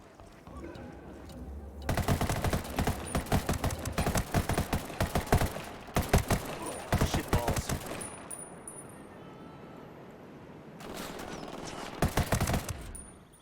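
Rapid bursts of automatic gunfire from a shooter video game crackle in long volleys, loud and close, pausing briefly between strings of shots while faint background game noise continues.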